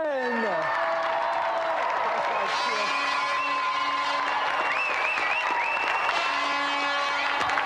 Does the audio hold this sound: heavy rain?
no